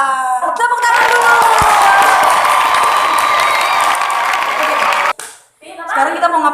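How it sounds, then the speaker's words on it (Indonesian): Crowd of university students at Universitas PGRI Palembang clapping and cheering loudly for several seconds, a dense continuous burst that cuts off abruptly near the end before voices resume. "Tepuk tangan dulu."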